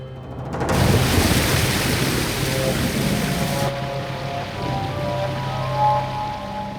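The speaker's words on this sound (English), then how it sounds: "The rocky limestone terrain cannot absorb the water, and it collects in deep, fast-flowing gullies." Flash flood water rushes through deep gullies in rocky limestone terrain of the Judean desert, a loud continuous roaring wash that starts suddenly and carries on steadily with a low rumble beneath.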